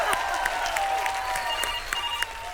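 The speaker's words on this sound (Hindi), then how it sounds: "तालियां बजाओ।" Studio audience applause on a Hindi comedy stage show rolls on steadily, with a few sharp bell-like rings and bright accents cutting through.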